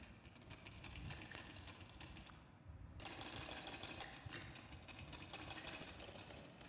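A sewing machine stitches a 1.25-inch neck binding strip onto the back of a baby frock, a fast even whirr running nearly the whole time and pausing briefly before resuming, close and fairly quiet.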